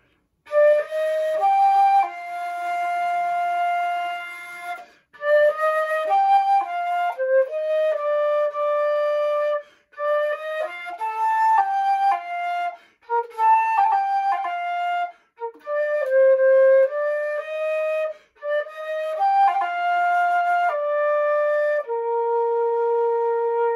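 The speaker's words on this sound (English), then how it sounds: "Today I'm going to be demonstrating the flute," A band teacher plays a solo flute melody, clear sustained notes in phrases separated by brief breaths, close and alone with no talking.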